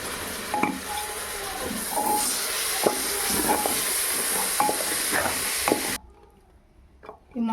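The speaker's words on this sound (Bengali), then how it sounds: "মশলাটা দিয়ে ভালো করে চাল আর ডালটাকে একটু ভালো করে আস্তে আঁচটাকে আস্তে করে দিয়ে আর এইটাকে ভালো করে একটু ভেজে নিতে হবে" Rice and lentils fry with spices for dry khichuri in a pan over low heat, a steady close sizzle with repeated scraping stirs that cuts off abruptly near the end into quiet.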